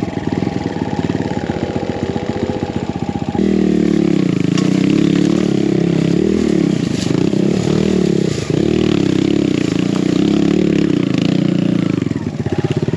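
A BBR KLX170RF dirt bike engine on a trail ride, first a sharp rapid idle clatter, then a sustained loud revving drone that rises and dips under load, close and continuous, with no talking.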